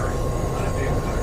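An Amtrak passenger train rushes past with a steady, loud, broadband rumble and roar that holds for the whole moment, with voices faintly present underneath.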